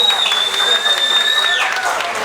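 A crowd applauds at a live Turkmen-style music performance, with moderate clapping under a sustained high whistling or feedback tone and faint voices.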